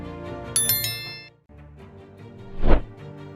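A bright chiming ding rings out once with shimmering overtones, set against a low musical bed that briefly cuts out before resuming.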